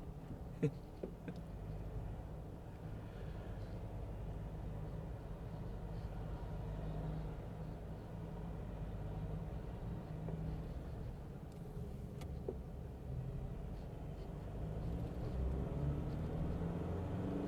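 A JMC Vigus Pro pick-up truck climbs a mountain road, its engine a steady low rumble with road and wind noise heard from inside the cab, continuous and moderately quiet.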